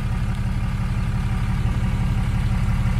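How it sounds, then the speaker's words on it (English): A 2007 Dodge Ram 2500 with a 6.7 Cummins turbo diesel and AFE exhaust idles steadily nearby, its low, throbbing exhaust note muffled and even, with no voices. "Not super loud, if I recall. It is still a mufflered exhaust."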